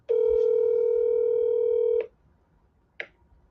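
A steady telephone tone sounds loud and continuous for about two seconds, then cuts off, followed by a short faint electronic blip a second later during a call to a person named Matt.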